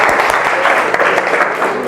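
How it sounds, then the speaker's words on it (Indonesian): A class of students clapping together in unison, a dense, steady burst of applause filling the room from start to finish, close and loud. "tepuk tangan bersama-sama"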